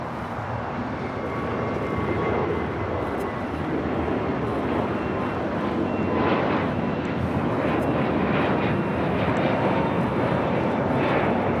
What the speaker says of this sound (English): Next takeoff is JetBlue Flight 2010 heading to West Palm Beach, Florida. It's an A321 NEO.